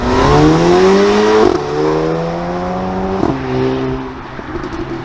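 A VW/Audi MQB car with a Miltech non-resonated exhaust holds a deep, steady drone, with pitch shifts as the revs change, loud and close with no talking.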